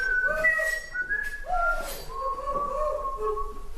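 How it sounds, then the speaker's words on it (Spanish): Whistling sound effects for a torture scene, a series of clear sustained whistled tones that slide up and down in pitch, loud and close, with faint background noise and no speech. "Estos son efectos de sonido donde se escucha una tortura."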